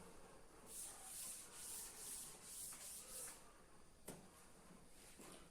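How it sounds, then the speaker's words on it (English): An eraser rubbing out pencil writing, about half a dozen quick, rhythmic back-and-forth strokes, soft and close with a light tap near the end. "Now I'll rub out the below part also."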